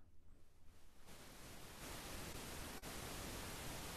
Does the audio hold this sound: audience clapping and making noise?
no